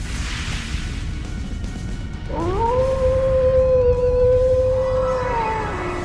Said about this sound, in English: Did that howl cancel out the artifact's power?